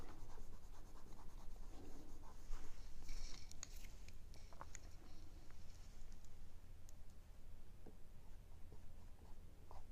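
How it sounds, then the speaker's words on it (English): A kneaded eraser works over pencil shading on paper, giving soft, close dabbing and rubbing scratches in an irregular pattern against quiet room hiss. "erase away with a kneaded eraser"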